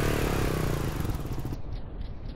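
A KLR 650 motorcycle engine in GTA hums and revs loudly and close by, a steady rough drone that eases off slightly toward the end.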